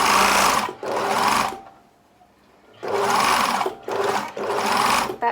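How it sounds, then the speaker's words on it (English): Sewing machine stitching bias binding around a garment's side seam, running in two close, steady bursts with a short quiet pause between them. "I'm just going to keep sewing, wrapping that bias binding around that side seam."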